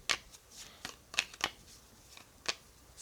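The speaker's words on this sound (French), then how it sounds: "On va mélanger cette portion-là." Cardboard tiles from the Dwellings of Eldervale board game are shuffled by hand on a table, giving several sharp, close clacking bursts at irregular intervals over a quiet background, with no talking.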